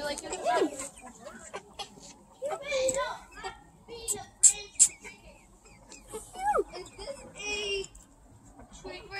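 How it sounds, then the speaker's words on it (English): Rooster crows and hen clucks come in bursts around a farmyard, mixed with a voice and chatter nearby. "That rooster sounds angry."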